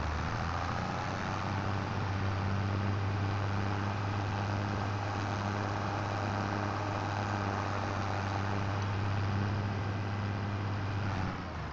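A Challenger tractor engine in Farming Simulator 25 drones steadily under load, a loud continuous low rumble with no change in pitch and no talk over it.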